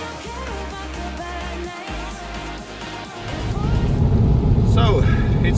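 An Opel Calibra with a 2.5 litre V6 engine on the road, its steady low engine drone and tyre rumble heard from inside the cabin, growing louder and rougher toward the end as the car gathers speed.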